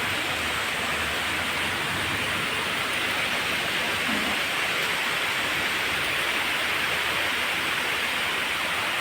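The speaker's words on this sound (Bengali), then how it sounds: "ভালো বৃষ্টি হচ্ছে।" Steady heavy rainfall in a village setting, a broad constant rushing patter that stays even throughout, close and loud with nobody talking.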